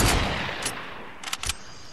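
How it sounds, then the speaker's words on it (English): Gunfire in Fortnite Battle Royale, a video game: a loud burst at the start, then a single shot and a tight cluster of rapid shots near the end, with no one talking over them. "I shot him in the head and it did 60."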